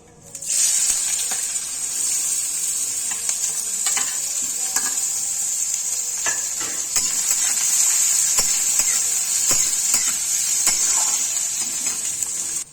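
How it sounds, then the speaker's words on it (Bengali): Chopped onions fry in a pan with bay leaf and dried chilli, a steady loud sizzle running throughout with occasional stirring scrapes and clicks, no voices. "আমার পেঁয়াজটা ভাজা হয়ে গেছে"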